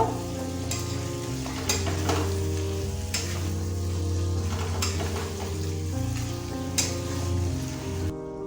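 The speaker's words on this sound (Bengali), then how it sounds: "এবার এর মধ্যে আমরা দিয়ে দেবো ভেজে রাখা মাছের মাথা। সবকিছুকে আবারও খুব ভালোভাবে মিশিয়ে নেব।" Fried fish heads are stirred into spiced oil in a pan for muri ghonto, a steady sizzle running throughout while a utensil scrapes and clacks at intervals, close up and without talk.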